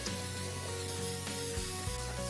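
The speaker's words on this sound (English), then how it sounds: "With each pass of the spray gun, the vehicle is reborn." A spray gun hisses steadily as it coats an accident-damaged Suzuki truck in red paint during its restoration, a continuous close airy spray with a low background hum.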